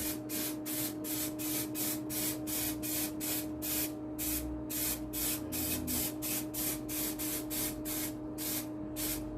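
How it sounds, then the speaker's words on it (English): Rapid, regular bursts of a spray gun hissing in quick succession as a liquid coating is sprayed onto a wooden shield's edging, a steady pulsing rhythm over a low mechanical hum. "then I'll spray out, making sure I'm getting good coverage here."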